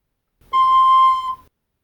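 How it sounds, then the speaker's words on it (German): The lowest note of a garklein recorder, the smallest member of the recorder family, played as a single steady, bright, piercing tone lasting about a second, alone and clear with no talking. "Sogar der tiefste Ton ist bereits sehr hoch."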